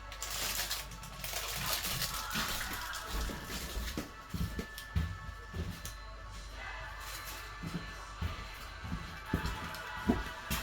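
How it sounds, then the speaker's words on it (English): Heavy rain pours down steadily outdoors, a dense continuous wash of noise with scattered louder splatters and knocks throughout, fairly close and loud, no talking. "Oh, it's really pouring it down."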